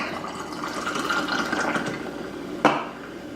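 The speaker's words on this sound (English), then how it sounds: "Top it off with some tonic." Tonic water is poured over ice into a glass holding a shot of gin, a soft, steady fizzing trickle that ends with a sharp clink near the end.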